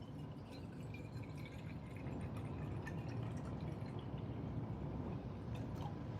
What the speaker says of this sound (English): I'm going to add some water to this flask.